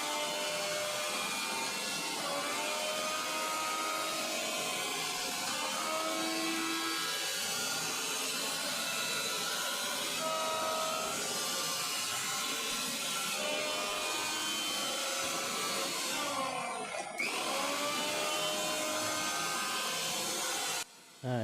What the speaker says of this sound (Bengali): এভাবে একটু সময় ধরে লো স্পিড হাই স্পিড করে ভালোভাবে ঘুরিয়ে নেবেন মিক্সার গ্রাইন্ডারটা।